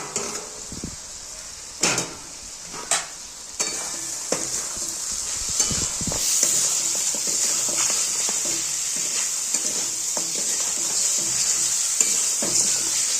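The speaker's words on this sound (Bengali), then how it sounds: "এই যে চিকেনটা যে ভেজে রেখেছি, হাফ ভাজা করা চিকেন, তো সেটা ছেড়ে দেবো" Half-fried chicken goes into hot oil with cashews and raisins and sizzles loudly and steadily up close. Sharp scraping stirs and spoon knocks come early, then the frying hiss swells.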